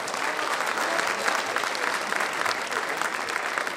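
Dense, steady clapping from a crowd at a Hindi kavi sammelan poetry recital, loud and continuous throughout without pause.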